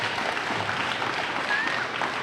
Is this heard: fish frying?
no